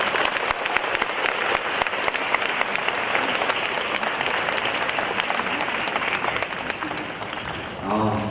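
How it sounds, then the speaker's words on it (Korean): Sustained, dense applause from a school audience at an admissions information session, filling the room steadily before a brief voice surfaces at the very end. "다시 한번 큰 박수"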